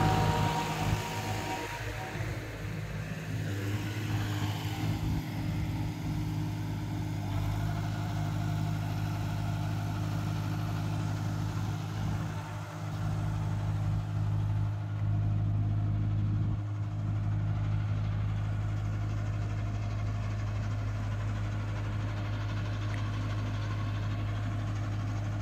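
A tractor engine runs steadily at a low idle, a deep continuous rumble with a constant drone that holds level throughout, close by.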